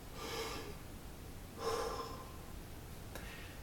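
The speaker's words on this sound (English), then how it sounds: "I'm going to do just an abdominal breath" Two soft, airy abdominal breaths drawn through the nose and mouth during a singer's breathing exercise, each about half a second, faint and close, followed by a brief short exhale near the end.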